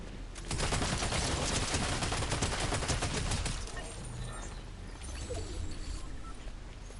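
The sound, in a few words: shotgun fire from the video game Fortnite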